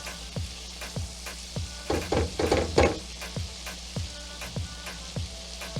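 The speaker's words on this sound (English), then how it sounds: "when you're sauteing the garlic, about 30 seconds after you smell the garlic cooking" Garlic sizzles gently in a pan, with a soft frying crackle under regular light taps and a brief burst of stirring midway, close and fairly quiet.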